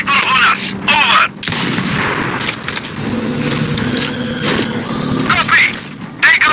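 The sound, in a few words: sniper gunfire in a video game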